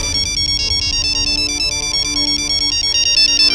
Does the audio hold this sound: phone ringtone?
yes